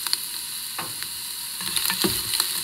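Sausage and chopped onion brown in an Instant Pot with a constant sizzle, broken by a few sharp scrapes and clicks of a utensil stirring the pan. No one speaks.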